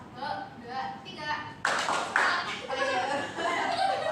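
A classroom group does the tepuk semangat chant-and-clap routine, with sharp, loud bursts of clapping from about the halfway point alongside voices and some laughter, after quieter talking.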